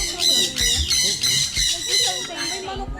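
A chicken squawks in loud, repeated harsh bursts close by outdoors, with people talking over and between the calls.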